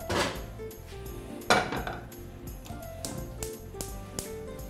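Metal cookware clanks as a frying pan is set on a gas stove, a few sharp knocks and clinks spread out over a few seconds in a quiet kitchen.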